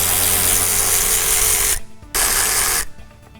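A power tool removing a bolt and nut near the firewall of a car, with a loud, steady, high whirring run, a brief stop, a second run, and then a fade, heard close with no talk.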